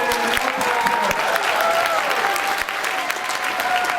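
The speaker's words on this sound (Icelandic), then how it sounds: "Ég ætla að klappa fyrir Snorra Heimis og skólaljónsveit." Sustained applause at a Christmas ball in a Hilton hotel ballroom, honoring a school band and its leader Snorri Heimis; dense, steady clapping from a large crowd, with a faint hum of voices and tones underneath.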